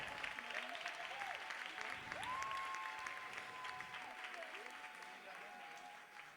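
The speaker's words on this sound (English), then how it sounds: "on les applaudit bien fort" Audience applause at a boogie woogie dance competition, a steady wash of clapping from a crowd that carries on for several seconds while a music tone lingers faintly underneath.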